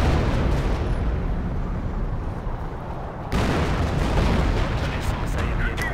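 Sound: artillery strike explosions in video game Company of Heroes

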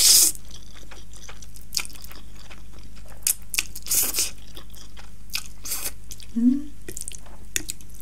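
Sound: eating spicy Buldak ramen with egg yolk, first bite

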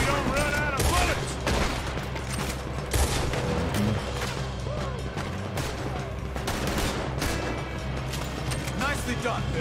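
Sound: gunfight in video game Red Dead Redemption II

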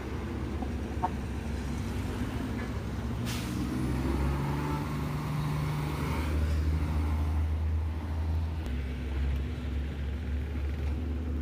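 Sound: container vans and large trucks passing on road

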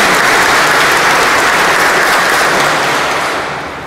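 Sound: group applause at a sanctuary welcome

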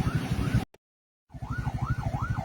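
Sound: ambulance siren in traffic

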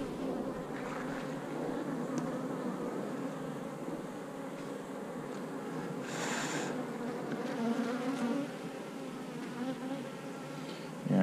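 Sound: honey bees buzzing on a brood frame

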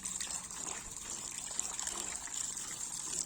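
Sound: water washing soil off

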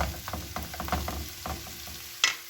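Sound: beetroot greens being stirred and fried in a pan

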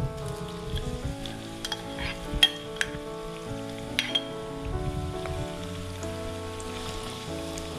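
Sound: sliced onions frying in hot oil

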